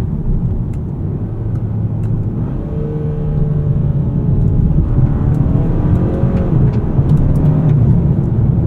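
2024 Hyundai Sonata N Line with an 8-speed dual-clutch gearbox accelerating hard from inside the cabin, giving a steady loud engine drone that rises in pitch and drops back at quick gear shifts, over constant road and tire noise.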